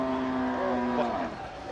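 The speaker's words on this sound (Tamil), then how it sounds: "இல்லை இது வண்டி மாடாண்ணா வண்டி மாடுங்க சார்" Cart bullocks bellow with a long, drawn-out moo at a busy cattle market in Manapparai, loud and close over the crowd's constant murmur.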